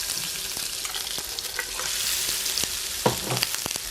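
Jun'an fish cakes of chopped, kneaded fish meat pan-frying with a close, crackling sizzle, with scraping stirs and sharp spatter pops rising toward the end; no one speaks.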